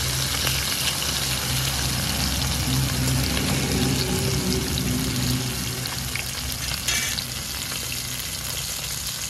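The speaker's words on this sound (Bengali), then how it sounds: "মাছ ভালো করে লাল লাল করে ভেজে নিয়েছি" Loud, steady sizzling and crackling of bata fish frying in hot oil, continuous throughout with occasional stirring noises.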